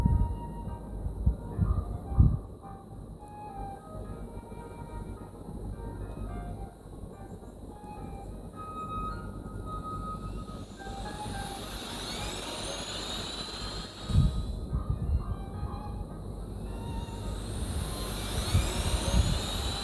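A drone lifts off in a garden in the game Love and Deepspace, a steady mechanical whir with rising whines and swelling roar under a constant broadband rush.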